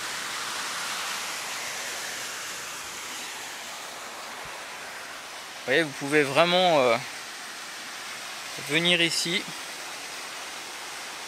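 Steady broadband rush of river rapids and a small waterfall on a Corsican river, constant and fairly close, with someone speaking French over it for a few seconds.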